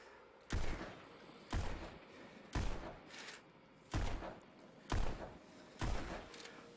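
Dual-wielded pistol shots in the VR rhythm shooter Pistol Whip, High Priestess level: six sharp bursts of two or three quick shots each, spaced roughly evenly about one second apart, loud and close over a constant music backdrop.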